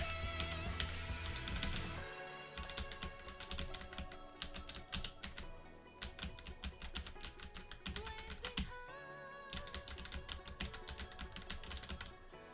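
Rapid, uneven clicking of keys on a computer keyboard, played during a Genshin Impact music session, with bursts of taps and tonal notes layered over steady background sound; no talking.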